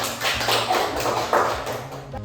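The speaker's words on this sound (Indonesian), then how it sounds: "kita beri aplaus dulu untuk kelompoknya Bakso dan Asma." A classroom gives brief applause for a group that has just presented, a short burst of scattered clapping lasting a couple of seconds.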